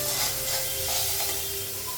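Soybean chunks with turmeric and salt frying in a very hot wok, a steady close sizzle and hiss.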